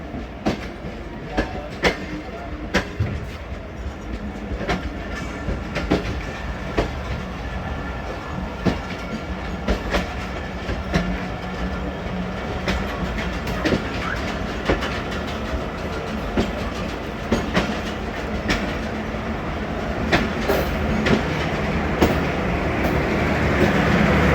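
The Jaffar Express 40 Down passenger train runs past close by on a foggy winter day, its wheels clattering in a steady clickety-clack that grows louder toward the end.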